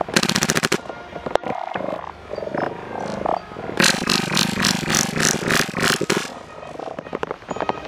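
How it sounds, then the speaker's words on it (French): A WE Luger P08 airsoft pistol fires on its own with a faulty trigger: a rapid sharp burst of cracks at the start, then a clattering run of loud mechanical snaps and rattles lasting several seconds, close and continuous. "Je n'ai pas appuyé sur la détente, il a tiré quand même."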